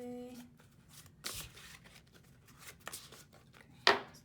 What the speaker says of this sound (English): It's just how I decide to shuffle my cards.